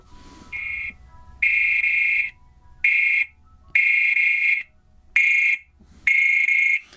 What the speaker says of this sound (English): Emergency whistle.